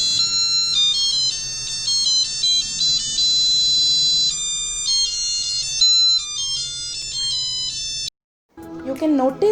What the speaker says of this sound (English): Once the alarm starts to ring, switch off the main plug and open the door.